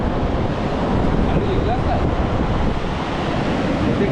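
Strong wind buffets the microphone on a Ratnagiri beach as surf rolls in, forming a loud, dense, continuous roar with no clear breaks, close and enveloping throughout.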